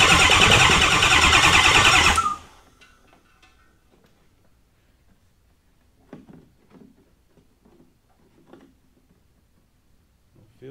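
A Ford Powerstroke 6.4 diesel engine cranks over loudly and steadily for about two seconds, then stops, followed by quiet clinks and handling sounds in a workshop.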